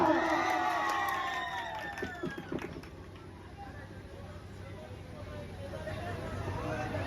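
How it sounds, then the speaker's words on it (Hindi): A crowd cheers and shouts with children's voices and whoops rising over a general hubbub as a politician arrives, loud at first and then settling into a steady murmur of excited voices. "नेताजी के लिए जोरदार तालियां।"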